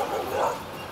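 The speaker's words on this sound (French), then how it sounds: "Il y a des chiens errants qui arrivent." Stray dogs barking on a beach in Mauritius, a close dog bark rising over steady outdoor ambience in a single short burst.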